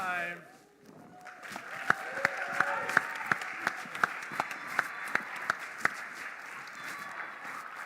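Audience applause as the grand prize is presented at the 2025 Carroll Biz Challenge, after a voice speaks, with a few loud, close, evenly spaced claps standing out above a softer background of crowd clapping.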